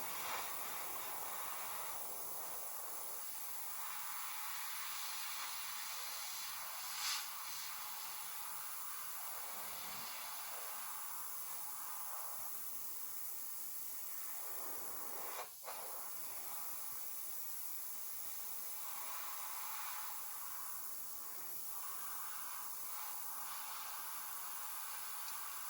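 Airbrush spraying paint onto a Tamiya 1/48 P-38 model with the compressor at about 13 PSI, a faint continuous airy hiss held steady close by with small flickers and one short break.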